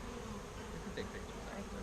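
Honeybees, including drones, buzz around an open hive during an inspection, a steady soft droning hum with a few faint voices in the background.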